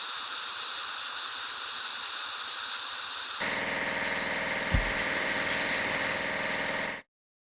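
Truck being washed with water in a kids' video game, a continuous hissing spray over a low motor hum that shifts to a louder, fuller pump drone halfway through, then stops abruptly.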